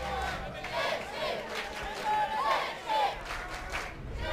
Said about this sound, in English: here's shouts of Cheshi, which is essentially a local crowd cheering on the home team